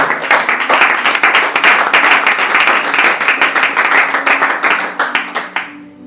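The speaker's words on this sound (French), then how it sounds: "Est-ce que tu peux acclamer fortement Dieu?" A church congregation claps and cheers loudly in praise, a dense continuous roar of many hands that thins out and fades over the last second.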